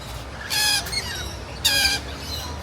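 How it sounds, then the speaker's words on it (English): Lorikeets in a walkthrough aviary at a theme park give two loud, harsh squawking bursts close by, separated by a short gap with softer chirps and background murmur. "This is the lorikeet like walkthrough experience thing you can do."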